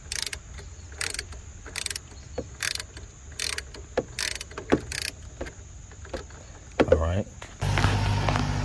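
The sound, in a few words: ratchet tightening dog bone engine mount on 2001 Toyota Camry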